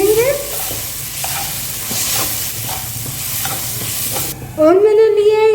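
Ground spices, including red chili powder, are stirred and roasted over a low flame for a black chickpea curry. A loud, close sizzle carries repeated scraping strokes, and a short voiced sound follows at the end.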